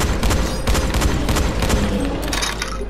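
Gunfire aimed at the Behemoth in the game Dying Light: loud, close bursts of rapid shots repeating in quick succession over a rumbling background.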